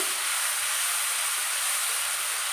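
Ground paste of onion, garlic, ginger and chilli hitting hot oil in a wok, an intense, even hiss of sizzling that stays loud and unbroken throughout.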